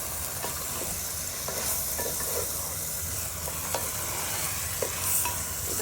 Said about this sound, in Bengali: এভাবে সুন্দর করে লাড়া চাড়ে একটু কষায় নিয়ে